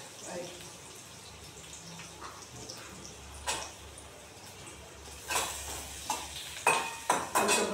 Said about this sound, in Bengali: আলুটা ভাজা হোক।